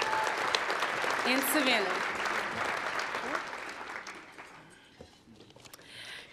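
A crowd at a youth recognition ceremony applauds the candidates with loud, sustained clapping that slowly fades toward the end, while a speaker talks over it.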